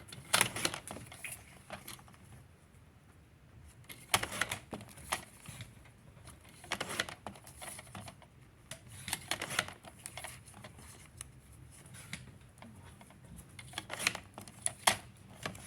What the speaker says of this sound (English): now this goes back in the trimmer tall, and this time we're going to cut it at 2 inches